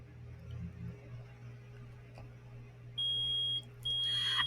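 Metal detector in the Phoenix Wright Ace Attorney video game, two sustained high electronic beeps over a quiet low hum, with a short gap between them.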